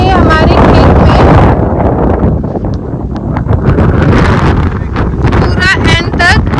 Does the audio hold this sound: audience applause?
no